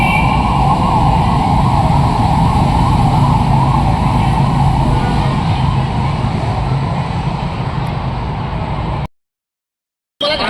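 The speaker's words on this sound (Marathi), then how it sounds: "सगळे कमांडो गाड्या आहेत." Commando vehicles with sirens pass along the route of a Pune cycle race: a loud, continuous wail over heavy traffic rumble that holds steady for about nine seconds, then cuts off abruptly.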